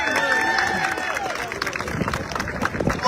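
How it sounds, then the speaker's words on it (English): Audience applause at a Brooklyn community funding event in Brownsville, a crowd clapping steadily with a rising patter and some background chatter mixed in. "just a round of applause and thank you"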